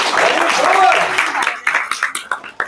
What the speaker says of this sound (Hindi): ताली बजाने में कंजूसी नहीं कीजिए